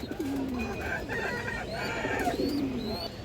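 Pigeons coo and burble close by in a soft, continuous flutter of calls, with a few brighter chirping notes mixed in and no clear talk.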